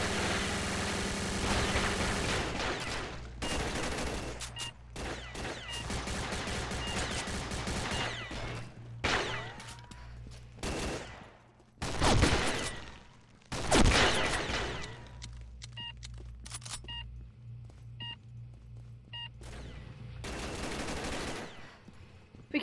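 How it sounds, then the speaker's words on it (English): Video game gunfire aimed at a turret: repeated machine-gun bursts and volleys come in loud clusters, separated by quieter gaps with a low engine-like hum underneath and no talk. "They're trying to shoot down my turret."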